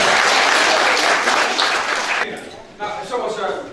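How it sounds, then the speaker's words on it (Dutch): An audience breaks into loud, dense applause that carries on for a couple of seconds, then thins out as a voice begins talking over the last scattered claps. "Ik zou zeggen, applaus alvast."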